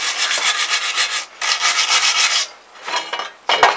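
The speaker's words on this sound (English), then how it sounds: "wire brush the thing. Not coming up too bad. So we're just getting all the loose rust off" A wire brush scrubs loose rust off a metal footboard plate in steady, close, broadband rasping strokes, with two long bursts, a short pause, then a lighter pass and a final scrape.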